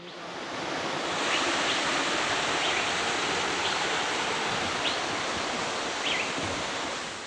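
Keralamkundu waterfall in Kerala roars as a steady, loud, broadband rush of falling water, continuous throughout, with faint bird chirps barely audible above it.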